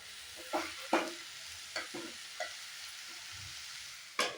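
Beetroot fries in a pan, a soft low sizzle broken by a few distinct scraping stirs and clinks of a spoon, spaced irregularly.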